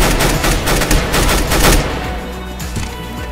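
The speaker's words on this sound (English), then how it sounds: "oh, he shot that guy apparently." Rapid gunfire in Counter-Strike, a loud run of close, sharp automatic shots for nearly two seconds, then quieter trailing sounds.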